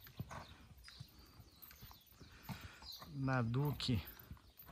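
A purebred Lusitano stallion, a chestnut, is led past with hoof clip-clops in a steady walking rhythm at moderate distance, under someone talking and a brief whinny.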